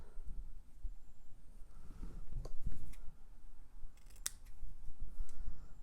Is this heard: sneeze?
no